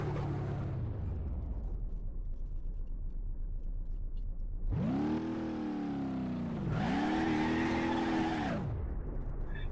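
A modified Impala, Sean's Grand Marshal, spinning its wheels in BeamNG.Drive: two loud bursts of engine revving rise and fall as the tyres lose grip, following a quiet, fading engine note.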